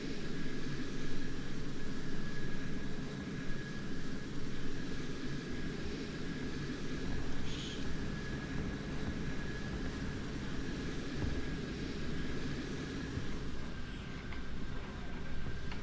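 Jet aircraft engines roar in a multiplayer flight combat video game, a steady distant whooshing drone with a faint high tone running throughout, no voices.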